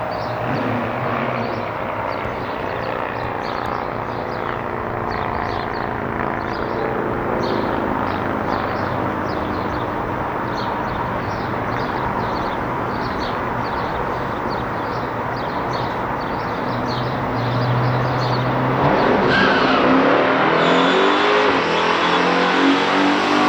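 Two muscle cars drag racing side by side, a 1969 Plymouth Road Runner 440 and a 1972 Buick GS 455, their V8 engines roaring loudly and steadily, swelling louder near the end as they pass close by.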